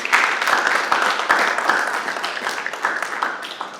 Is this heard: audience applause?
yes